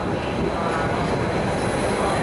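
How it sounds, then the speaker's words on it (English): A train departs Budapest Kelenföld station on a service to Dürr, its steady broadband rumble of rolling wheels and traction noise filling the platform continuously, loud and close, with no voices over it. "the train to Dürr, which has been announced 58 times, is finally leaving"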